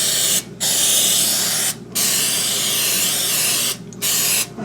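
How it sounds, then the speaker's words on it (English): Non-stick cooking spray hisses from an aerosol can in long, steady bursts with brief pauses between them while a baking pan is greased in a kitchen. "I'm going to use the non-stick cooking spray"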